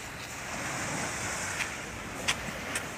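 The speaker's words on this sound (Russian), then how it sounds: "Чёрное море" Black Sea surf washing onto the shore at Sochi, a steady broadband wash of waves and wind with a few brief louder splashes near the end, no voices.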